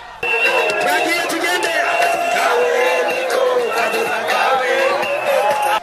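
Large crowd on a government-organised peace march, a dense roar of voices, cheers and shouts over rhythmic music, loud and continuous.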